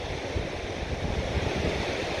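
A very high, fast river rushes over a weir in an industrial city, giving a loud, continuous roar of churning water with wind buffeting the microphone and no talk.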